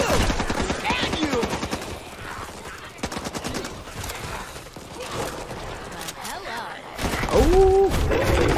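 Gunfire in the Back 4 Blood video game: bursts of rapid shots and explosive bangs over several seconds, loud and dense, with game noise and a voice rising toward the end.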